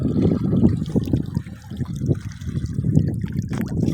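Irrigation water flows and gurgles steadily through a sesame field nearby, a continuous trickling rush with no voices.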